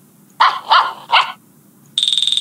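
Recorded dog barking from a children's learning app: three quick, loud barks in succession, followed by a short burst of rapid electronic beeping.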